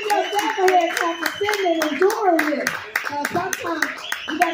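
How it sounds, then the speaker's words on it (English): An open mic comedy audience claps, with sharp, scattered hand claps that rise and fade while someone talks loudly over them. "Give everybody a clap."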